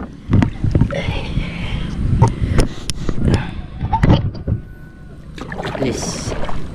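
A small boat moves over water while people go fishing, with irregular knocks and splashes against the hull, wind buffeting the microphone and a low rumble underneath.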